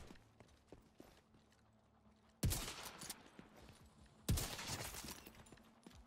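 Magazine-fed rifle fire in a PvE shooter game: two loud bursts of rapid gunfire about two seconds apart, each a sharp onset that trails off into sustained crackle over quieter background game noise.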